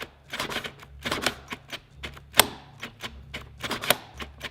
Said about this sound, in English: I just keep clicking the trigger to bypass it